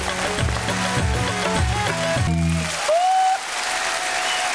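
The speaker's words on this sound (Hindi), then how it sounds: "मंच जोरदार ताली।" Audience applauding at a Bhojpuri stage show, loud sustained clapping that rises as music fades and continues alone to the end.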